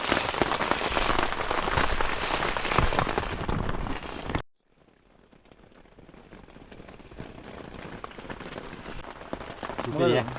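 Heavy rain pours down at night in Kabaragala, a dense, loud roaring hiss that cuts off abruptly partway through and is followed by softer, steadier rain noise that slowly builds again.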